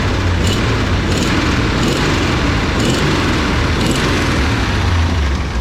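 Jeep CJ7 engine with a suspected head gasket problem revving repeatedly, a loud, steady roar with several rhythmic surges close to the microphone.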